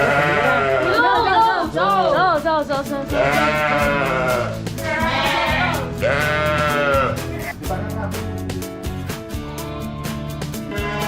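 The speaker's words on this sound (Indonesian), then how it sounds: "Domba khas daerahku ini punya bulu yang tebal karena hasil persilangan dengan domba merino." Sheep of a local breed crossed with merino bleat repeatedly in loud, close, wavering calls that overlap one another through the whole stretch, with a busy rustling background.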